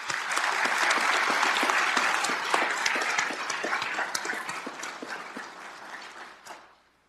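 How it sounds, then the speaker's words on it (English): A police academy graduation ceremony audience gives a round of applause for TDU members, sustained crowd clapping that holds strong for several seconds, then fades out. "Give them another round of applause, please."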